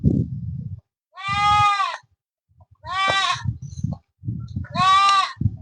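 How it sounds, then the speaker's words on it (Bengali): A goat bleats three times in a natural outdoor setting, each call a loud, wavering cry about half a second to a second long, separated by short pauses, with low rustling and handling noises between calls. "এই যে ছাগলে ব্যাবা করছে"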